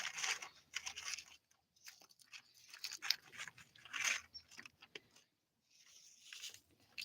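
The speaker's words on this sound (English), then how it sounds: "Look at this cute girl eating dog food." Beefy Dog, a pet dog, crunches and chews dry kibble in close, irregular bursts of bites with brief pauses, including a silent gap near the end before the chewing resumes.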